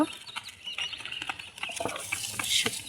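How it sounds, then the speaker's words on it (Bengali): Eggs being lifted out of a chicken nest on a farm, giving soft rustling and light shuffling close by, while chickens cluck faintly in the background and no one talks. "আমি ডিমগুলো এখন বের করে নেব"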